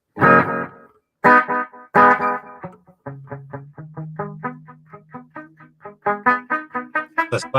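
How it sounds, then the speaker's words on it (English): Electric guitar played through an EVH 5150 Iconic amp with delay and reverb, starting with a few heavy distorted chords, then a run of quick picked notes over a sustained low tone, with echoing repeats trailing each note. "I've got the delay that he uses a little bit with some reverb"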